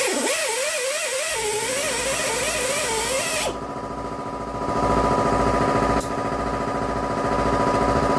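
In a workshop where two-stroke exhaust ports are being cleaned, an air compressor kicks on with a steady, buzzing motor hum that shifts in tone partway through and keeps running throughout.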